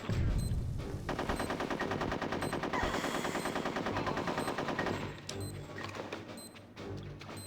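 Rapid, continuous machine-gun fire in Conker's Bad Fur Day, loud and close, rattling steadily for several seconds before thinning out, with no talking over it.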